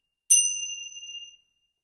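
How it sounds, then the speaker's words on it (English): A single clear metallic chime strikes to open a guided meditation, its bright ringing tone sustaining and slowly fading over about a second in an otherwise silent room. "We'll do chimes to start and chimes to finish."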